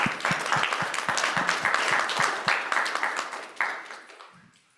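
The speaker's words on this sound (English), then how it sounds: "Thank you very much. Another round of applause." Audience applause after a talk at a technical conference session, many hands clapping in a brisk burst that thins out and fades to a few scattered claps.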